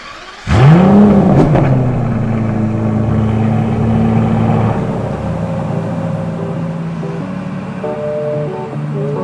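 An Aston Martin DBS Superleggera, the James Bond car, fires up with a sharp, loud rev that sweeps up and falls back, then settles into a steady, throaty idle close by.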